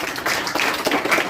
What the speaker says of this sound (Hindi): तो फिर से एक बार ताली बजाइए